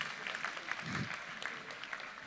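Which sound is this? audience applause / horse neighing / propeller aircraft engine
audience applause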